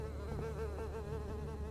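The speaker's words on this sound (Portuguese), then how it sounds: "aqui cheio de moscas" Flies buzz constantly in a survival video game, a dense, close insect drone with wavering wingbeat tones and no talking over it.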